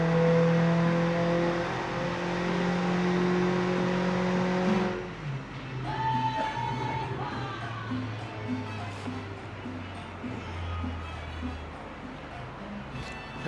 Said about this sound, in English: We got a car on the dyno right now that's running some things.